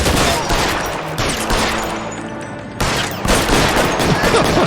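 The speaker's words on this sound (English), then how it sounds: "You're shooting at nothing." Rapid bursts of automatic gunfire in a shooting video game, loud and dense, with a brief lull in the middle before the shooting resumes.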